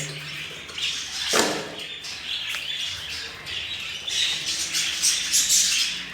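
Jumbo budgerigars in an aviary give repeated harsh, raspy squawks and chirps, close and fairly loud, overlapping in bursts with brief quieter gaps.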